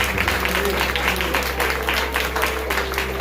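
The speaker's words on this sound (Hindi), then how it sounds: "तालियां बजा सकते हैं।" A church congregation claps during a sermon on the cross, a steady wash of many hands over a constant low electrical hum, with faint voices mixed in.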